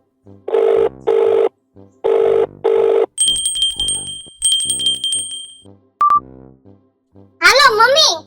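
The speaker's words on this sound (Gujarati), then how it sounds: "મારી માને ફોન કરીને બોલાવું" A phone rings with repeated paired electronic ring bursts, followed by a high trilling ringtone tone and a brief beep, then a voice speaking at the end.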